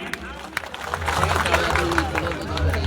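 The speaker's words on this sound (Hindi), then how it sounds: "जोरदार तालियां इनके लिए।" Audience clapping and cheering at a large village rally gathering, a dense steady wash of applause and crowd noise lasting throughout, with murmuring voices mixed in.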